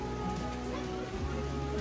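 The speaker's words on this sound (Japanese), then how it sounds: "まだ全然強い霧雨だね。" Heavy drizzle falls steadily at a rainy campsite in Hokkaido, a dense, continuous patter of drops on surfaces with a low background rumble throughout and no clear talk.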